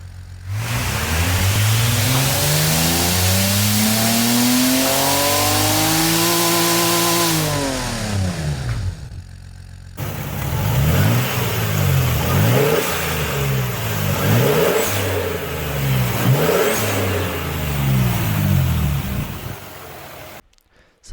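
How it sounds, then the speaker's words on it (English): Toyota 2JZ-GTE inline-six engine recreated in the Automation car game revs up and down in long sweeping pulls, then a series of rhythmic rising revs, loud and alone with no talking. "what we want to do here is record the sound of this engine and then compare that to the sound of an actual 2JZ."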